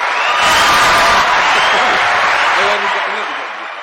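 A crowd applauds with cheers and whoops, dense clapping that holds loud before fading toward the end, with voices mixed in.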